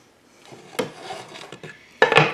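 A plastic zip tie is cinched tight around a ribbon bow on a bow-making tool, giving a dry rasping ratchet of a few close, quick pulls that ends in a louder burst of rubbing and rustling.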